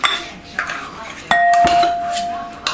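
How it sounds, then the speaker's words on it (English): A metal spoon clinks and scrapes against a can while scooping pumpkin puree in a kitchen, a few sharp close ringing taps, with brief talking around it. "I need a spoon to scoop this."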